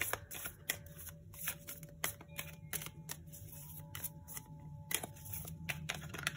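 Tarot cards being shuffled close up, a run of quick crisp riffles and flicks, with short pauses between bursts.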